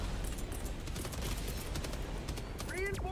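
Walking artillery barrage in a video game, a dense continuous rumble of overlapping blasts and gunfire at fairly close range, with a brief whistling sweep near the end and no talk.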